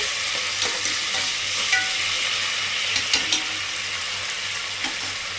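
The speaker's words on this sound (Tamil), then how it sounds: "புதினா வந்துட்டு எண்ணெயில் போட்டு கொஞ்சம் லைட்டாக ஒரு வதக்கு வதக்கிடுங்க" Mint leaves sauté in hot oil in a pan for tomato rice, giving a steady close sizzle with occasional soft stirring scrapes and clinks, and no talk.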